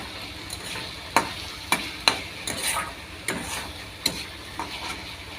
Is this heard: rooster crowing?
no